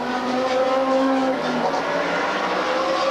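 Trans Am race cars at St. Petersburg roar past loud and close in a steady, sustained engine drone with shifting pitch as they battle for the lead.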